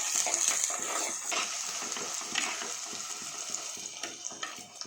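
Onions, green chili and curry leaves sauté in oil in a pan, a steady close sizzle punctuated by rhythmic scraping and stirring strokes, with no talking.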